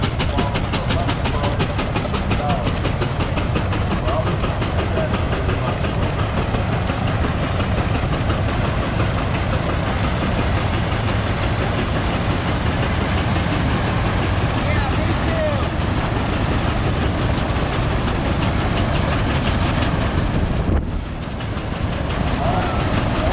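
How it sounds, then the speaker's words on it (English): An old steam engine runs a belt-driven fan at an antique show, with a loud, continuous rapid chuffing and mechanical rhythm at close range, steady throughout with speech mixed in. "I got the old steam engine on the fan here."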